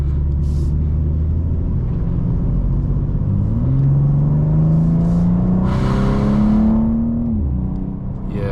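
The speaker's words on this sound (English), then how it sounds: "Let's give it some acceleration as we get on the road here." BMW M2 with an inline-six engine pulling away onto the road, the exhaust note climbing steadily in pitch through a long acceleration, close and loud, a brief hiss near the end as the revs peak and drop, no talking.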